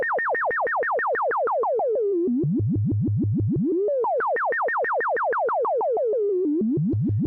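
A cycling envelope on an Abstract Data ADE-30 Eurorack module inverts another envelope, making rapid repeating synth plucks that glide down in pitch, then turn over and sweep back up. The pattern is loud, continuous and electronic, with no voices.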